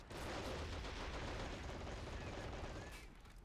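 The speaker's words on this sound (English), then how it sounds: "There's a machine gunner over there." Gunfire in the video game Men of War: Assault Squad 2, a dense, continuous crackle of rapid shots and mechanical rattle, faint and distant-sounding, fading slightly near the end, with no voices.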